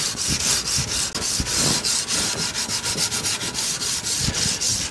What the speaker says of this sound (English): Now that the blade has been completely final ground, it is time for hand sanding.